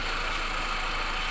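A 16-valve 1.6-litre car engine idling quietly, a smooth, even hum that holds steady throughout with no revving or knocking and no talk.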